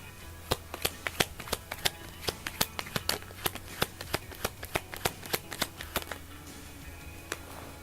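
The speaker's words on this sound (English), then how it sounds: "We're going to pull 3 cards for you." Tarot cards are shuffled in a steady run of crisp riffling snaps, close and fairly loud, about three per second for most of the stretch before slowing near the end, with no talking.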